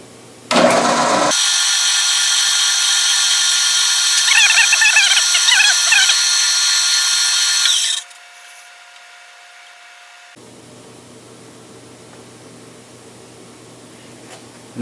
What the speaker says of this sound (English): I'm going to drill both of them at the same time so that I'm certain that the holes line up